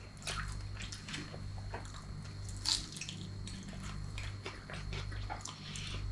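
Crunchy bites into crispy okoy, a fried shrimp fritter with bean sprouts, giving a scattering of quiet, sharp crackles over a low hum, fairly close, with no talking.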